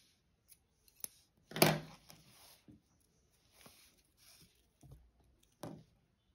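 Scissors snip through crochet yarn after a caterpillar piece is finished, one sharp close cut with a few faint handling taps and small snips around it, quiet and alone.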